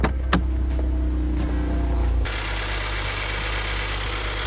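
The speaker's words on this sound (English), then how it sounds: "So you can hear the high pressure fuel pump ticking." A car engine idles steadily, with a fast ticking from its high-pressure fuel pump. A dense hiss and hum fill the latter half at close range, and no voices are heard.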